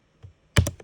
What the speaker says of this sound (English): sorry if you hear my keyboard at all